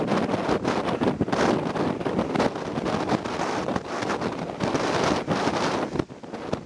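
Strong wind buffets the microphone while waves rush and surge at a headland beach during a drive, a dense continuous roar with irregular gusty bursts.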